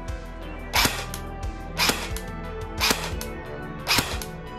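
An airsoft SA-FX01 Flex polymer replica fires in semi-auto, giving four sharp single shots spaced about a second apart, each a crisp loud snap over a low steady hum.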